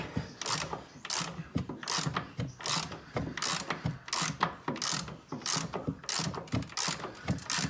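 Rapid ratchet wrench clicking while ball joint nuts are tightened on a 2013 Chevy Silverado, with repeated bursts of sharp metallic ratcheting in a steady back-and-forth rhythm, close and fairly loud.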